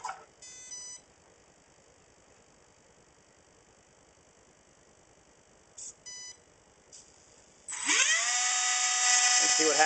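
A Dynam E-Razor electric RC helicopter motor spins up with a loud, steady high-pitched whine near the end, following a few electronic beeps from the speed controller at the start and middle.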